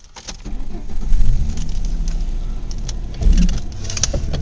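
A car is driven along at moderate volume, its engine and road noise a steady rumble with small swells of acceleration and a faint rattle, and no voices.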